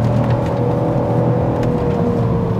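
Alfa Romeo 156 GTA with its Busso 3.2 V6 on the move, a steady, close engine drone with a low harmonic hum and road noise, holding an even load throughout without any voices.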